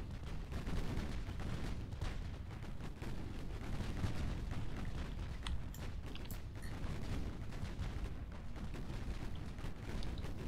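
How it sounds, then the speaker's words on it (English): Naval gunfire in Ultimate Admiral Dreadnoughts from a warship's 7-inch guns, a steady rumbling barrage of repeated booms and cracks layered over continuous low battle noise, moderately loud. "7-inch guns, almost out of ammo,"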